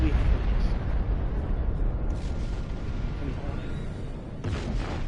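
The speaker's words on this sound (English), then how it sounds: "the explosion will get you if you're too close" A sustained, loud explosion rumble from a space battle in the Star Trek Online video game, filling the whole clip with dense low roar, with a brief burst near the end; speech is mixed in underneath.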